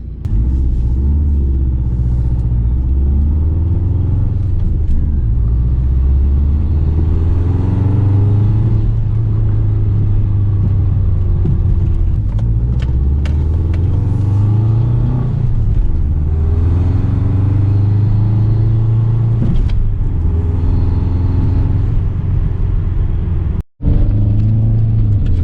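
Subaru WRX exhaust heard from inside the cabin while driving, a steady loud low rumble that swells repeatedly as the engine revs up and settles through gear changes, with no talking.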